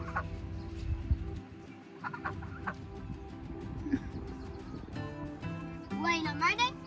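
Backyard chickens cluck close by in a summer garden, a busy run of short clucks and calls, while a voice and other talk can be heard around them.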